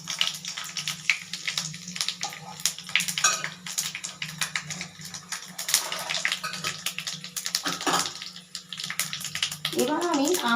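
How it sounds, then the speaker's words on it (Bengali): Green chilies and bay leaves sizzle in hot tempering oil, a steady, loud, hissing crackle that runs throughout with a low hum beneath it. "4টে কাঁচা লঙ্কা, 4টে তেজপাতা দিয়ে দিলাম ফোড়নে, তারপর দেব 5 ফোড়ন।"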